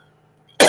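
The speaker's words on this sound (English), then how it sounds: "I still got a cough." A single sharp cough bursts out near the end after a stretch of quiet, close and loud.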